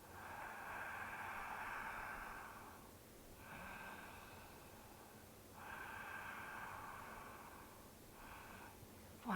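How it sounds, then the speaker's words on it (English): Ujjayi breathing during a gentle yoga session, slow audible breaths drawn through a constricted throat, four long ocean-like hissing strokes in a steady rhythm, close and soft with no talking. "A good time to start the Ujjayi breathing."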